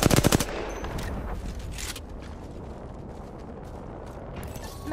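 Apex Legends gunfire opens with a quick, loud burst of automatic shots, then gives way to a lower, rumbling wash of game noise for the rest.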